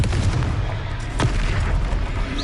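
A Confringo fire spell explodes in Hogwarts Legacy with a loud, booming blast over steady combat rumble, with a sharp burst near the middle.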